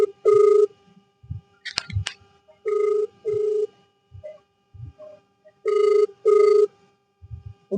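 A mobile phone rings repeatedly during a prank call, paired electronic ring bursts recurring in a regular pattern, loud and close, with soft clicks and thumps between them and no one answering.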